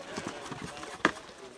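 Horses' hooves clip-clop during an extreme horseback parade (cabalgata) in Arandas, with a sharp hoof strike standing out amid crowd noise and people talking nearby.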